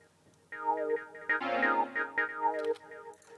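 A soft, filtered pad synth stab from a Korg M1 repeats in short rhythmic hits, a mellow tone played quietly with a few overlapping notes.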